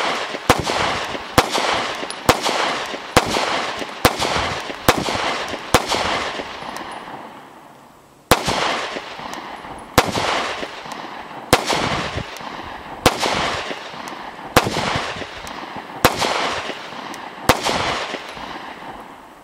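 A lightweight Bul Armory SAS II Ultralight 1911 double-stack pistol with a 3.25-inch barrel fires a long run of loud, sharp shots at a steady pace, a brief pause midway, each crack ringing out with no talk.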